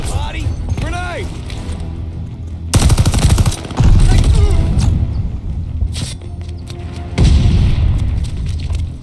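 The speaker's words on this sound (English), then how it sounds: "Grenade!" A grenade explodes amid sustained automatic gunfire in Call of Duty Vanguard's Patrol mode, with loud booming blasts and rattling machine-gun bursts over background voices.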